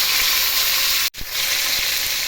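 Tomatoes and curry leaves sizzle loudly in hot oil, a steady bright crackling hiss that cuts out abruptly for an instant, then surges back as the frying continues.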